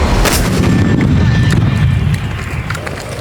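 A single loud, close gunshot booms out, its rumble lingering and slowly fading over a few seconds amid outdoor wind noise.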